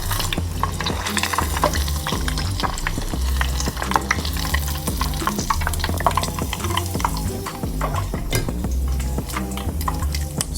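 Mozzarella sticks fry in hot oil with a loud, continuous bubbling crackle, dense popping and spitting close up that holds steady throughout, over a low music bed.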